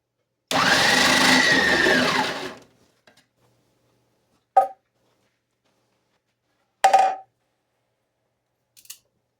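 A food processor whirs loudly for about two seconds while slicing vegetables for home canning, then cuts off, followed by a few sharp clicks and knocks of the lid and bowl in a quiet kitchen.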